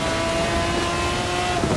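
McLaren F1 supercar engine in Forza Horizon 4, a steady, loud sustained drone with a constant tonal whine, holding at an even pitch throughout without a clear rev change.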